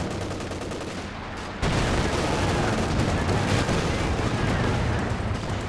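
Anti-tank guns and artillery pound away in a Company of Heroes 2 multiplayer battle, a quieter stretch giving way to a sudden loud, sustained barrage of overlapping gunfire and booms that keeps going to the end.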